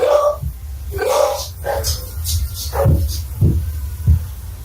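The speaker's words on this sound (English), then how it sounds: "my dog's going crazy downstairs" A dog barks repeatedly from another room downstairs, the muffled barks landing in an irregular series beneath a steady low hum and some background voices.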